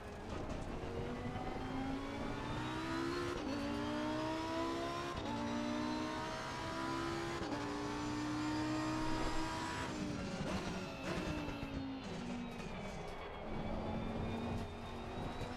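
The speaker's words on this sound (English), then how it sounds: "Oh, the sound is so good on this car. That V10 is amazing." Lamborghini Huracan EVO V10 in a racing video game at the Hungaroring, its engine note climbing and dropping through repeated gear changes, a steady loud howl with a brief dip near ten seconds.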